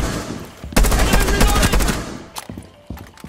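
Rapid automatic gunfire from a Rainbow Six Siege match, a loud close burst lasting over a second followed by a few scattered single shots and faint in-game noises.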